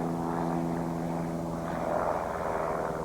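A propeller aerobatic airplane drones in flight, a steady loud engine and prop hum with stable harmonics and slight swelling, heard close with no talk.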